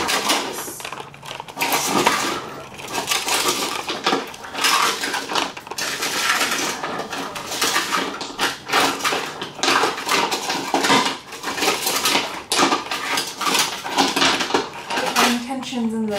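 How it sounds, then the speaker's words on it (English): Small rocks of a stone cairn being handled, with a dense run of clinking, clattering knocks and rattles of stone on stone at close range, loud and continuous, without speech. "sprinkle this on my rocks."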